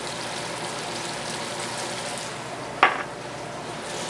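Apples sizzling with Madras curry, ground ginger and salt as the spices toast in a hot pan: a steady, close frying hiss with one sharp clink partway through.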